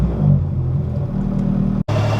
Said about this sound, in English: So you see how I'm revving it up, but the RPMs are not going up.